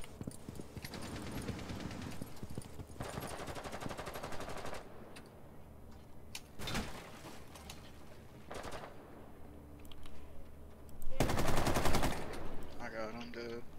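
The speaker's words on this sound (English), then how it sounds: "I'm gonna shoot this." Rapid automatic weapon fire in Rainbow Six Siege, loud sustained bursts close by, broken by a few sharp single shots and a final heavy burst, with players talking over the shooting.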